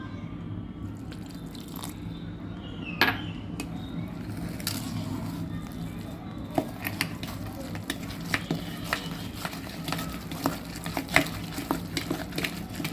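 Cake batter of orange juice and soaked dry fruits being stirred for a Christmas plum cake, with repeated soft scraping and sloshing strokes and occasional clinks against the bowl, close up with no talk.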